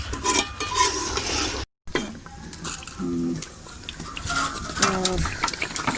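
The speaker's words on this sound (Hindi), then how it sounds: "इस तरह भूनते जाएं, उस वक्त आप इसको भुनें जब तक ये गोश्त गल ना जाए" Chicken meat being fried for Hyderabadi biryani, with a continuous sizzle and intermittent stirring and scraping in the pot, nearby and moderately loud, broken by a brief dropout, plus a few short tonal chirps.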